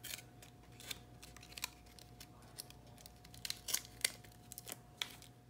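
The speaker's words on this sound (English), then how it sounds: "this piece has the double-sided adhesive on the back, so I'm just gonna peel all of this away" Double-sided adhesive backing peeled off a paper die-cut piece for a scalloped A2 card, with faint, close, intermittent crinkly tearing and papery ticks spread across the clip, soft and quiet without any talking.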